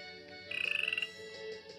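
A VTech Ordi Genius Kid toy laptop plays a frog croak, a quick train of about a dozen rattling pulses lasting half a second, bright and close, set against the toy's steady electronic background.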